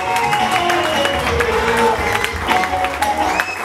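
A church congregation claps steadily throughout, a dense, continuous patter of many hands that fills the room, with some voices and tonal sound mixed into the wash.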